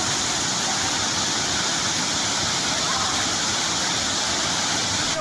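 A tall waterfall at Dangiri, Jashpur, plunging from a height, gives a loud, steady, unbroken roar of falling water close by, constant for the whole stretch with no breaks.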